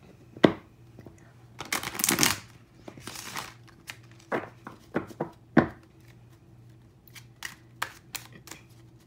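Tarot-style crystal cards being shuffled by hand, a run of crisp riffling bursts and soft card slaps, close and fairly quiet, with brief pauses between shuffles and no speech.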